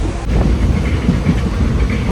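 A train rolls into a station at Kayamkulam, a loud, steady low rumble with faint rhythmic clatter, close and continuous throughout.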